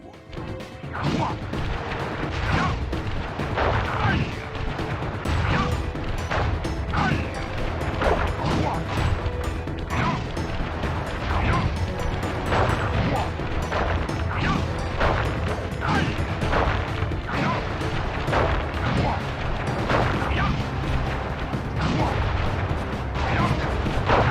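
A relentless barrage of firework-attack explosions from the Flame Foo technique in the Sly Cooper video game, with loud crashing blasts and bangs in a dense, continuous, chaotic stream.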